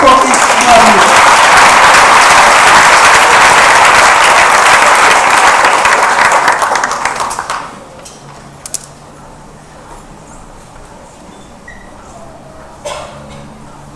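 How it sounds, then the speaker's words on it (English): An audience at an IB graduation ceremony applauds loudly and steadily for about seven seconds, then the clapping stops abruptly, leaving a quiet hall with a few faint sounds. "Let's give him a round of applause for his wonderful."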